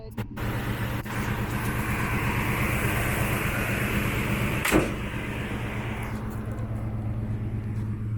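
A 1973 Chevrolet Blazer Cheyenne 4x4 with factory air and a 350 engine idles smoothly and quietly, a steady low hum with an even rhythm and one brief click partway through.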